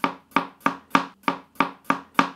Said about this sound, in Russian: Лук тоже режьте произвольно.